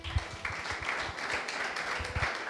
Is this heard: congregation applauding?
yes